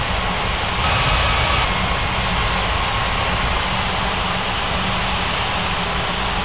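An airliner's jet engines roar steadily during takeoff on runway 18 at a Rocky Mountains regional airport in an air traffic control game, a loud continuous broadband rush with no speech.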